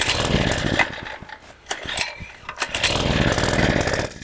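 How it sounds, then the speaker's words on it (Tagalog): A small motor starts up nearby and runs loudly with a choppy, sputtering rhythm, briefly dipping in strength several times before settling into a steady roar, with no talk heard. "O kuya, paandarin na natin ang motor"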